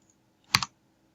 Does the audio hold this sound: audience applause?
no